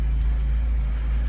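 A car that sat unused for about two weeks idles in a garage right after a cold start, making a loud, steady low rumble that holds an even drone throughout.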